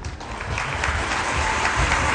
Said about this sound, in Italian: Accogliamole con un applauso.